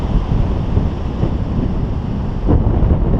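Strong wind buffets the microphone on a coastal paragliding site near San Diego, a loud, steady rumbling roar with gusting swells and no speech.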